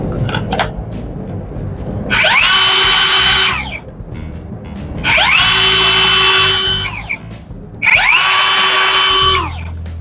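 A Lotus CXCS20V-180BL 20-volt cordless circular saw with a lithium-ion battery spins up three times, each run a loud, steady whine lasting about two seconds before winding down, with short gaps between bursts.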